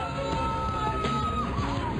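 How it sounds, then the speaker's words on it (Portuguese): Zoo visitors screaming and yelling in alarm at a gorilla enclosure, a dense crowd of overlapping shrill cries and shouts heard continuously and fairly loud. "Os visitantes do zoológico gritam."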